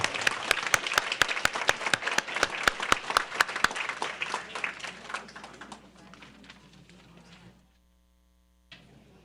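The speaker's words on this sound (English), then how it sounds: "Why don't we give a round of applause to everyone honored?" Audience applause for award honorees at a New Orleans public meeting: a loud, dense round of clapping with sharp individual claps standing out, thinning over several seconds into quiet, then a faint sound near the end.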